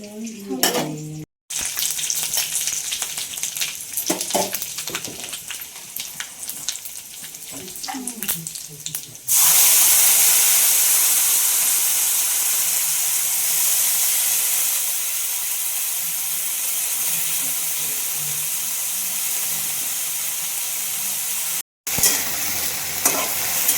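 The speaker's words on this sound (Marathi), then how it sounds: "तेलात जरा भाजून घ्यायची गवारी" Cluster beans fry in hot oil over a simple garlic and cumin tempering, first with clattering stirring, then a loud, steady sizzling hiss that runs on for many seconds as the pan is stirred.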